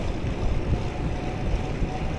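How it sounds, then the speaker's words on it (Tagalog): Steady wind buffets the microphone while riding along a bike lane on a cool morning, a continuous low rushing roar, close and fairly loud, with no voices. "Mabigat sa lubungan yung hangin."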